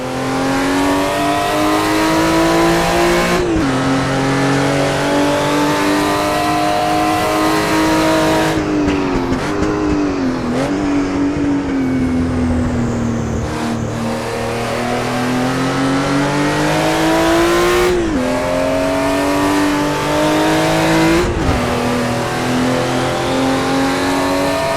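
Porsche race car in the Assetto Corsa racing game, accelerating hard with turbo boost coming on, a loud continuous engine roar with rising pitch sweeps and several gear-change dips, close and alone.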